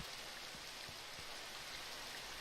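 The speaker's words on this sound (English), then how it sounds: "Oh, not the rain." Steady hiss of falling rain in the game Minecraft, a constant even wash with a few soft low patters, no talking over it.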